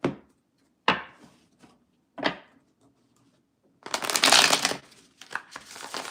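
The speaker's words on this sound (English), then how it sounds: "I'm going to shuffle until a feeling stops." A few sharp tarot card taps are followed by a long, dense riffle of shuffling cards, then a shorter burst, close up and clear.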